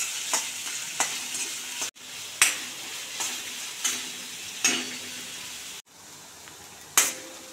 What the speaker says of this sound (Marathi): आता कांदा छान गुलाबी रंगावरती परतून देणार आहोत।